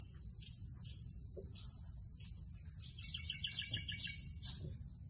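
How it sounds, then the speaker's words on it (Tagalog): Steady high-pitched cricket chirping fills the night air, with faint bird calls and a low background hum underneath. "Saka dito kayo makakarinig ng mga kuliglig."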